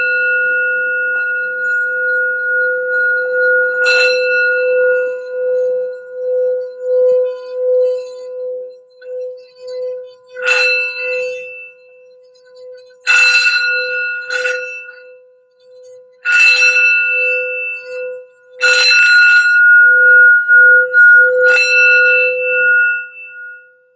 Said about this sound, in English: let's do our sound bell before the reading for some general grounding and healing